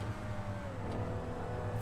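A Vagner supercar in GTA 5 held at full throttle, its engine a steady, sustained drone that stays fairly close and level throughout.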